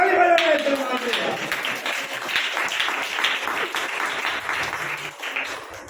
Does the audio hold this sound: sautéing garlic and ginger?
no